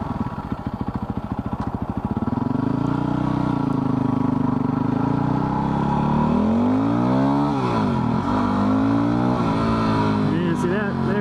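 A Yamaha WR450F dirt bike engine idles with a rapid thump, then revs steadily at partial throttle, rising and falling in pitch as it rides along, loud and close throughout.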